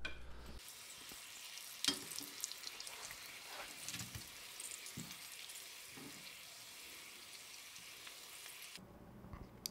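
Computer components deep frying in hot oil give a steady, faint sizzle and crackle throughout, with a few small pops and no talking.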